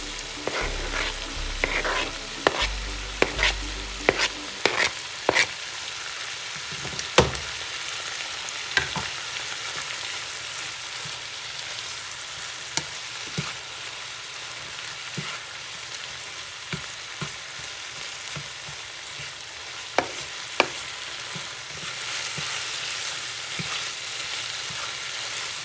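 Chopped vegetables with thyme, Italian parsley and basil frying and caramelizing in a pan, giving a steady soft sizzle broken by sharp clicks and scrapes of stirring, with no voices.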